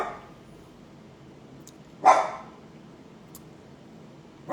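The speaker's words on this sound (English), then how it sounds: "Mac, Harley, she barks, and she's making Sophia cry with her barks." A single sharp dog bark rings out midway through a quiet room, with a fainter yip at the very end.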